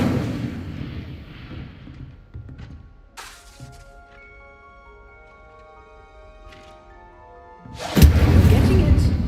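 An Incendio fire spell from Hogwarts Legacy bursts with a sharp crackling blast, then quieter game tones hang for several seconds before a second loud, roaring fiery burst near the end.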